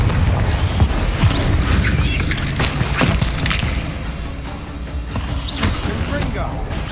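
A Confringo fire spell in a Hogwarts video game, loud booming impacts over a busy mix of game noise, while a voice speaks through much of it.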